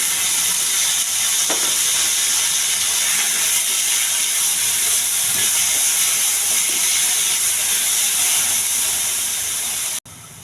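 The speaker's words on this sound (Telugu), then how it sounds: "రెండు మూడు విజిల్స్ రానివ్వాలండి" A pressure cooker boiling sweet corn lets out a steady, loud hiss of escaping steam that runs unbroken for about ten seconds, then cuts off sharply near the end.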